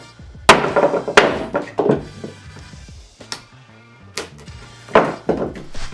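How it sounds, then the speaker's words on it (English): A hammer drives a chisel to cut a channel into a ski boot for a boot heater: several loud, sharp knocks, some rapid doubles, each ringing briefly in a quiet room. "get the proper size chisel, give it a good hit"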